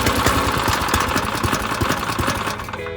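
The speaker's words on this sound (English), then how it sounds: "I had the choke still on and I had the engine idling pretty low" Small single-cylinder engine on a drift trike idling after a pull start with the choke on, a rapid, uneven, close putter with knocking pulses, steady throughout.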